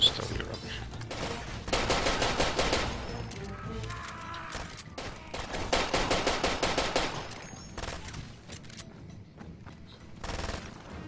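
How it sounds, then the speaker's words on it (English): Rapid bursts of Uzi submachine gun fire in the first-person shooter Far Cry 2, several loud automatic volleys separated by brief pauses, with no talking. "Someone has a Uzi."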